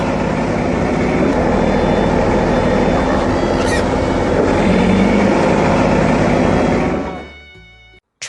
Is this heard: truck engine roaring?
yes